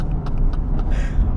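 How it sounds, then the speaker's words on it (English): A tuned Mercedes-AMG GT R with straight-piped downpipes and a Stage 1 tune idles in comfort mode with a deep steady rumble, a few faint muted crackles popping briefly over it. "even in comfort mode, the crackles are coming out, but they are very, very muted"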